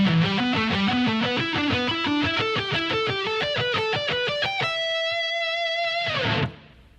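Distorted electric guitar plays a rapid three-note-per-string pentatonic lick, a steady stream of picked notes climbing in pitch, then a held ringing note that stops abruptly.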